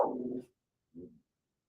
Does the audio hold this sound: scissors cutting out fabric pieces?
no